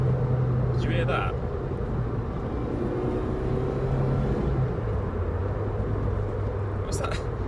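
A Ford Fiesta on its first drive gives off a steady low whine under constant road and engine rumble from inside the cabin, moderately loud and continuous, with faint brief voices.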